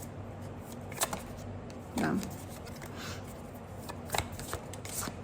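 A tarot deck is shuffled up close with soft riffling and tapping card sounds in short bursts. A voice speaks briefly.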